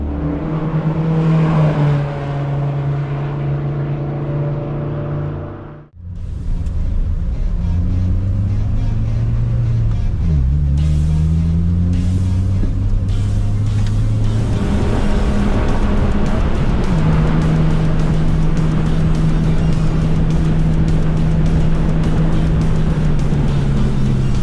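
A daily-driver car lapping a race track on a track day, its engine droning loudly and steadily up and down through gear changes, with a brief drop in sound around one shift and sustained higher revs later.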